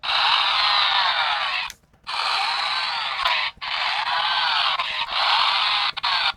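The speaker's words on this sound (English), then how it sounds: "The chainsaw sound effects also play through the Wiimote speaker" A chainsaw sound effect from the Wii video game MadWorld, played through the low-quality Wiimote speaker, gives a steady, harsh buzzing roar in long bursts separated by a few brief cutoffs.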